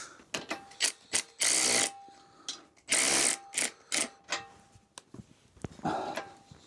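A ratchet tightening bolts on the rear end of a Golf GTI clicks in quick rapid bursts, several short runs of dense pawl clicking interspersed with single clicks and metallic handling sounds, close and clear.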